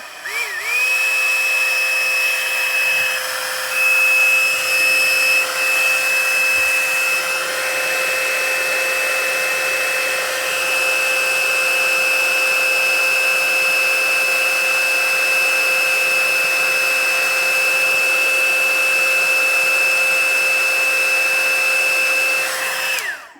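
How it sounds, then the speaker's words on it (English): An embossing heat tool runs steadily for over twenty seconds, a loud, close blower whine with a constant high tone that starts abruptly and cuts off at the end, with no talking. "now, I'm going to heat up my heat tool just a minute"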